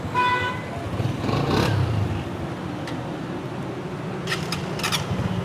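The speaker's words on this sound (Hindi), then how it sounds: "सेल्फ फिर से चेक करते हैं ज़रा इसका" A Honda 125 self-start motorcycle engine runs steadily and close, a constant mechanical drone with a brief toot near the start and a few faint clicks later on.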